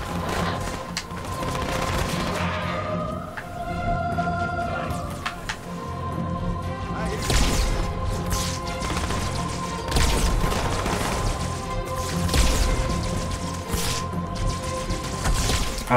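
Scattered gunfire from enemy grunts in Halo 2 Anniversary, moderately loud sporadic shots and bursts over a steady hum of game ambience and tonal effects, with no speech.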